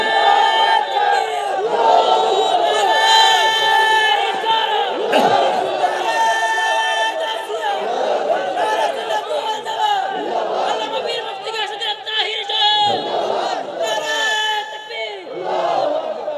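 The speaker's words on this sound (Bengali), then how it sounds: "একটা স্লোগান দাও।" A large congregation at a Bengali Islamic sermon shouts a slogan in unison, with loud, sustained, repeated chanted cries and crowd voices rising and falling together.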